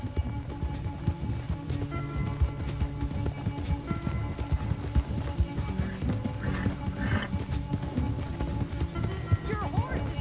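Horse galloping in the video game Red Dead Redemption 2, steady clip-clop hoofbeats with occasional whinnies running throughout under game music and dialogue, with people talking over it.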